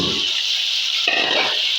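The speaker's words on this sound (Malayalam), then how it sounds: "ഇവിടെ ഒരു കുക്കർ വെച്ചിട്ടുണ്ട്, ഇതിലേക്ക് ഓയിൽ ഒഴിച്ച് കൊടുക്കാം" Cooking oil poured into a pressure cooker makes a soft, steady hiss, with a short fuller gush of liquid near the end.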